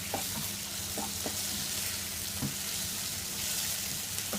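Tomato and onion sautéing in a pan over a medium flame for a beef onion masala, giving a steady low sizzle with a few brief clinks or stirring taps, close and alone.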